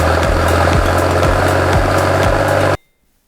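A restored Ford 7810 tractor engine idles through a straight pipe, a loud close rhythmic chugging with regular pulses that cuts off abruptly near the end.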